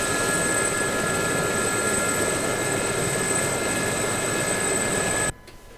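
Engines of a Gazelle helicopter running in the DCS flight simulator, a loud, steady turbine whine and rotor roar that holds constant, then cuts off abruptly near the end.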